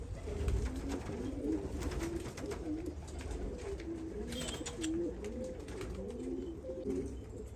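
Young pigeons, a set of full-winged birds kept for sale, coo steadily and softly in a loft, with overlapping repeated coos over a low rumble of background noise.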